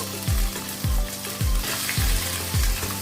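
Tomato frying in hot oil with ginger garlic paste, a close, steady sizzle broken by about five regular low thumps and scrapes of a spoon turning the mixture, no voices.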